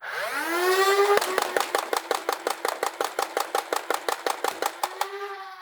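A Siren Blink blaster set to slow rate of fire and minimum power spins up with a rising whine, then fires a long, even series of sharp snapping shots before winding down.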